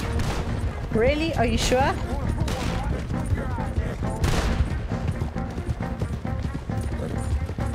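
Gunfight in Red Dead Redemption 2 in which soldiers of the Army exchange fire: rapid overlapping gunshots and fusillades mixed with galloping hooves, with game characters shouting and talking over the din throughout.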